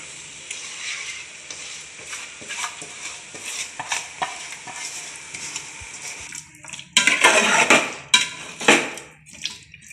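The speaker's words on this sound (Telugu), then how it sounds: "చికెన్ మొత్తం ఇందులో వేసుకోవాలి తాలింపులో వచ్చి" Chicken being stirred into hot spiced tempering in a pot for biryani, with sizzling and scraping of a spoon against metal in uneven bursts, louder clattering stirs near the end.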